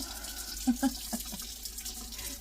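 Tap water runs quietly into a kitchen sink to rinse food while pork tenderloin and vegetables are prepared for the slow cooker, a soft continuous flow with a couple of brief splashy bumps.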